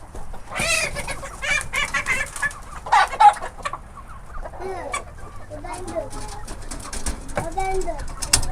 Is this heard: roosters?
yes